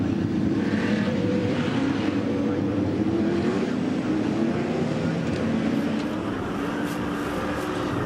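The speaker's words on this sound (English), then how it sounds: "See how the safety car has now brought the cars right down to just walking pace almost" V8 Supercars at Pukekohe Raceway crawling behind the safety car at near walking pace, a steady, loud drone of engines idling and rumbling together, continuous with no sharp changes.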